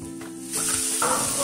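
Chillies, curry leaves and chopped onion hit hot oil for sevai upma, bursting into a loud, close sizzle that swells sharply partway through and stays bright and hissing to the end.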